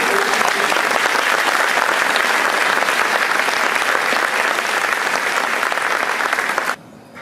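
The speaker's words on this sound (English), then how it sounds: "one last round of applause" Audience applause for a high school spring band concert finale of the 1812 Overture: sustained, dense clapping from a large crowd that holds steady and then cuts off abruptly near the end.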